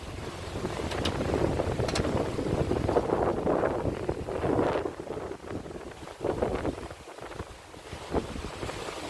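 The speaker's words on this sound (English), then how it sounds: "The wind has picked up" Steady wind rushes and buffets around a sailboat at sea under overcast skies, with rising and falling gusts and rumbling wind noise on the microphone throughout and no voices.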